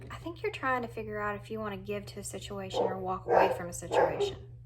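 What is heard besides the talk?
dogs barking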